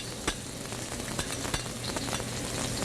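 Chopped bacon frying in peanut oil, a dense continuous sizzle with a few light clicks of a utensil against the pan.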